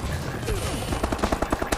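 Rapid automatic gunfire in the Call of Duty: Advanced Warfare video game, a quick series of sharp repeated shots growing more distinct toward the end, close and moderately loud.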